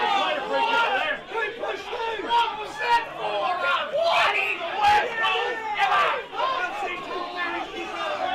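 Spectators at a country football match between Willaston and Tanunda at Willaston Oval groan and shout in dismay, a restless babble of many voices rising and falling in waves.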